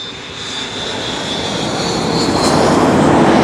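KLM jet airliner arriving at Amsterdam Schiphol, engine roar building steadily louder as it approaches, with a high whine on top, no talking.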